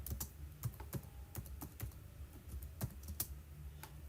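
Steady typing on a computer keyboard in a word processor, close, fairly quiet key clicks in an uneven rhythm with a few sharper taps, and no voices.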